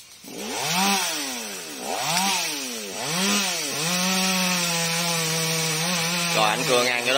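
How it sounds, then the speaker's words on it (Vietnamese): Chainsaw biting across the trunk of a fairly large golden wattle tree on a hillside, the engine note rising and sagging in repeated arcs as the cut loads and frees the chain, close and steady for several seconds. "Rồi anh cưa ngang cho đó các bạn ơi."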